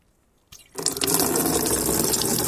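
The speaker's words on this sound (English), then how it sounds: "And then drain all that cleaner out." Coolant cleaner gushes out of the drained cooling system of a Mk1 Skoda Fabia 1.9 PD, starting after a brief quiet moment and then pouring steadily and loudly like a running tap.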